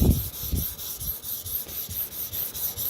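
A Sabatier paring knife is stroked back and forth across a Shapton whetstone, a rhythmic gritty rasp repeating about every third of a second, close and clear with no talk.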